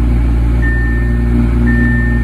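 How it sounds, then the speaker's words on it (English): A 2017 Audi R8 Spyder V10 engine runs steadily after a cold start, its elevated idle a loud, constant drone with a faint high whine and no talking. "The engine sounds amazing. It's a cold start, so that's why the RPM's a little high."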